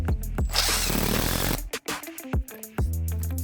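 A power drill drives a screw at an angle into a pre-drilled wooden post of a container garden shelf. A sustained buzzing whir stops, then several short, sharp bursts and clicks follow close by.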